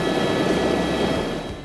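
Helicopter on a heli drop at Whistler, a steady loud rotor and engine roar close by, constant throughout and easing slightly at the end.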